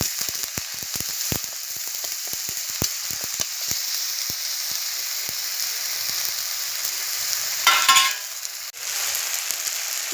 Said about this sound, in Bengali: এটা কিছুক্ষণ একটু তেলে নেড়ে চেড়ে নেব